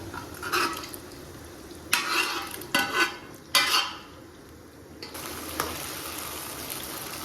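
Minced meat sizzles gently in a pan while a utensil stirs and scrapes it in several short bursts, with quiet pauses between.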